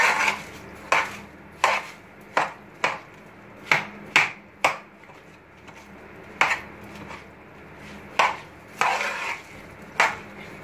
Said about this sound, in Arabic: قلب بقى فيها، انا بحب اقلبه كده